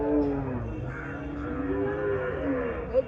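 A single cow at a livestock market lets out a long, drawn-out moo at close range, with a steady low crowd murmur underneath.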